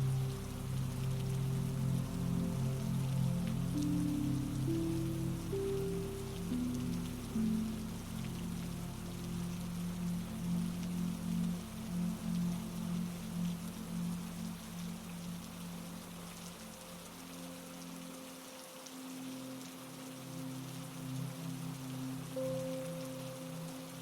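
Steady rain falls in an even, continuous hiss, soft and unbroken, with no voices over it.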